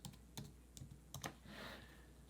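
A computer keyboard clicking out a short search entry, about half a dozen light, quick keystrokes in an irregular burst, close and faint over a low room hum.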